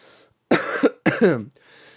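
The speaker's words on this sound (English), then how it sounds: "a cough or two later" Two rough, close coughs in quick succession, loud and abrupt, with a brief pause between them.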